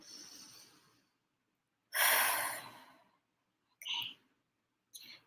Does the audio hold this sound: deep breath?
yes